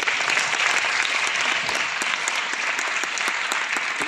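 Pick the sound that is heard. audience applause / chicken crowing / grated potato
audience applause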